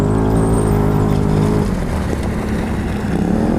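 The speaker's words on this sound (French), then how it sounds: "Allez, on repart." Can-Am Maverick Sport DPS 1000R side-by-side pulling away after a rocky descent, a loud, close engine drone with a shift in pitch partway through as it gets moving, with no voices.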